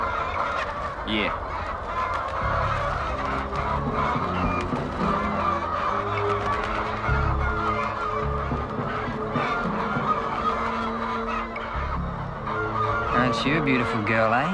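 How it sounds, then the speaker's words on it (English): Chickens cluck and squawk in a busy farmyard alongside goose-like honks, steady and fairly close throughout, with occasional voices mixed in. "Chickens."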